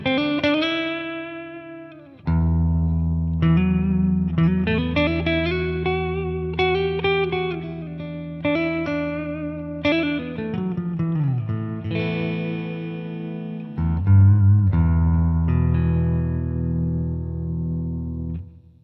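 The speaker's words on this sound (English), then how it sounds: "So it's a pretty nice reverb sound in there." Electric guitar chords and single notes ring out through a REVV Generator 120 MKIII amp's reverb, each one washing into a long reverberant tail; no voices.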